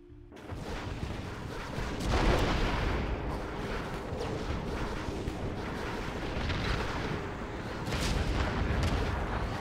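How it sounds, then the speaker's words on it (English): Explosions and artillery fire rumble continuously in the strategy game Gen Evo, with dense overlapping booms and blasts swelling and fading throughout the battle. "especially when there's explosions going off like that"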